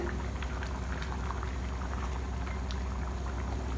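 Chickpea gravy (kondakadalai kuzhambu) simmering in a pot, a steady close bubbling with soft pops and blips spread evenly throughout, no voices.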